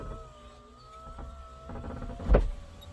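A BMW power window motor whirs upward with a steady drone, then hits a brief louder clunk near the end as the glass stops and begins to drop back down; close and clear, no talking.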